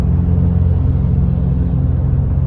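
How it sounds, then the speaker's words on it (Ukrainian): Volkswagen CC cruising on the highway at a steady 100 km/h, a constant low engine and road rumble heard from inside the cabin, loud and unchanging. "Зараз на круїзі виставлена швидкість 100 е, км на годину."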